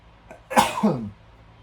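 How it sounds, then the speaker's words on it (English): A single loud sneeze bursts out close by, a sharp intake followed by a forceful, breathy explosion that trails off within about half a second, with no other sounds around it. "Achoo!"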